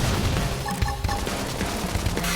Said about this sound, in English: with some gunfire!